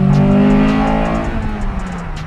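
A 2001 Integra Type-R engine pulls hard to about 4,500 RPM and through its cam crossover, a loud, rising rev with strong harmonics that eases slightly near the end.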